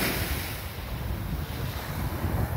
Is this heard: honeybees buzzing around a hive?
no